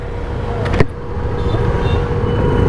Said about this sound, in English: The traffic jam